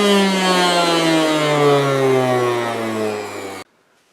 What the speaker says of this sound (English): this Miele now thinks it's an air raid siren from World War II